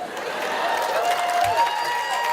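A large audience at a university graduation ceremony applauds, clapping spreading out as a broad, steady wash that sits behind a sustained tonal hum.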